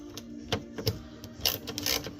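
Ratchet wrench clicking in short bursts while snugging the wiper bolts on a Camaro wiper motor, a close dry rattle of quick ticks separated by brief pauses.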